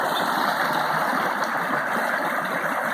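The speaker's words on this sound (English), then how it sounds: "creek, Whiskey Cache Creek, doing its thing." Steady rushing of Whiskey Cache Creek, a continuous broadband wash with gurgling, close and fairly loud, no voices.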